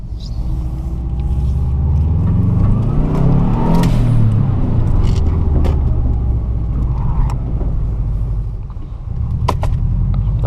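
A Subaru WRX driving on the road, heard from inside the cabin as a loud, steady engine rumble that rises in pitch as the car accelerates, then settles and builds again, with road noise throughout and no voices.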